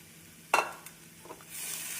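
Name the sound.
stirring chow chow kootu in a pan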